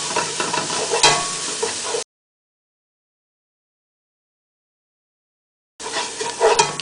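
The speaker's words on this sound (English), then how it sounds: "we'll go ahead and put in our spices for a little bit. Let those get nice and toasty." Garlic and spices toasting in a pot for spiced pumpkin soup, a steady close sizzle with stirring scrapes, broken by a long silent gap before the frying resumes.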